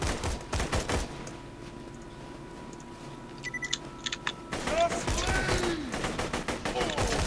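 Assault rifle bursts in Borderlands 2, loud clusters of shots at the start and end with quieter game ambience and a voice between them.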